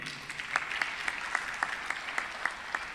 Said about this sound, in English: Big applause for them again.